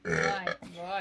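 A young man lets out a long, loud, voiced burp, then a second rising belch right after, close to the microphone.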